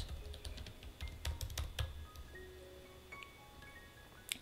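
Quick, irregular keystrokes on a computer keyboard while entering labels into an Excel spreadsheet, close and clear in a quiet room with no talking, plus one sharper click near the end.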